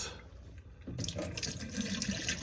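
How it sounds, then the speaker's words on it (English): Antifreeze pours into a camper's drain pipes with a steady liquid gush and trickle that starts abruptly after a brief quiet moment, close and continuous. "So we're just gonna pour antifreeze into all the pipes"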